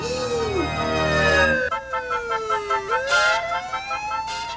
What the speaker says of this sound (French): j'entends la sirène des voitures de police.